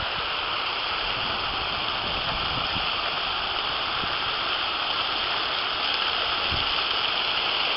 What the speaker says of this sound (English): The water makes a nice sound.